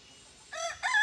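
A chicken fitted with a harness gives two loud, close, drawn-out calls in the second half, after a near-silent start, with no talking.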